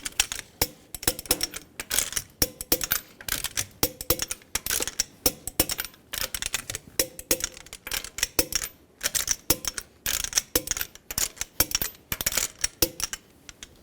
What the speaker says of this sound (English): Torque the lug nuts in a star pattern to 76 foot-pounds.